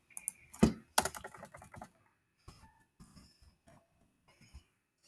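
Computer keyboard keys clatter in quick bursts, loud at first with a couple of heavier strikes, then softer, sparse taps with short pauses between them.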